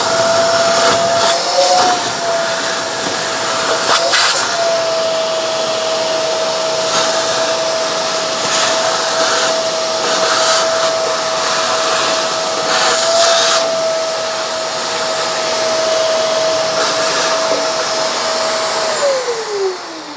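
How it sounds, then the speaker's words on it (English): A Shark MessMaster VS101 portable wet/dry vacuum runs steadily and loudly throughout with a constant whine, and the motor pitch drops as it begins to wind down at the end. "It's always a wet and dry vac."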